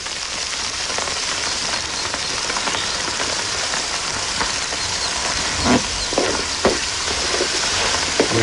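Chorizo and onion fry in a pan with a steady, bright sizzle and hiss, a few soft clicks of stirring rising above it near the end.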